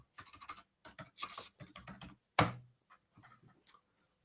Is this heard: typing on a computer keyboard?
yes